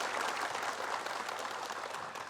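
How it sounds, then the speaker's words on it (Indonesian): Applause from an audience at an Islamic religious lecture, a steady wash of many hands clapping that carries through the whole stretch at moderate loudness and fades slightly toward the end, with no talking over it. "Boleh tepuk tangan semuanya."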